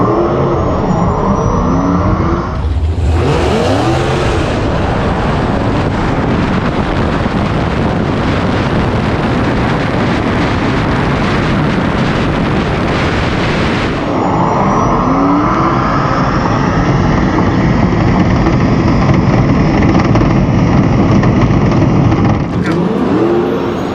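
A Dodge Demon 170 and a Tesla Plaid launch down a quarter-mile drag strip, heard as a loud sustained roar of engine and wind. The sound drops away briefly near the start and again at the end.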